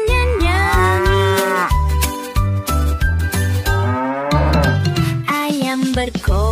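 A cow moos in long drawn-out calls over a steady rhythmic musical backing with bouncy beats and tinkling tones.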